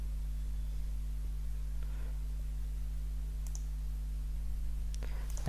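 Computer mouse clicks while setting up an SSL certificate on a GoDaddy-hosted website: a few sharp, isolated clicks, close and fairly quiet, over a steady low electrical hum.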